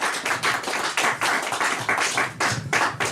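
Applause from a small audience at an open mic night in a cafe, steady close clapping that rises and falls over a few seconds.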